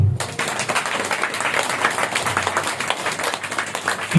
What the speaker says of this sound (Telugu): కొట్టండి చప్పట్ల